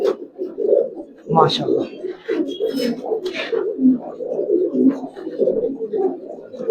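Old-breed Giribaz pigeons coo softly in low, throaty, repeated phrases close by, with someone talking over and between the calls.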